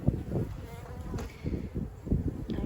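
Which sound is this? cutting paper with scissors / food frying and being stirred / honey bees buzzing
honey bees buzzing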